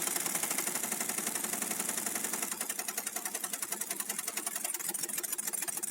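A pneumatic impact wrench hammers steadily at a seized CVT bolt on a Honda Vario 125/150 scooter, a fast continuous rattling buzz held close and loud, with no talk over it.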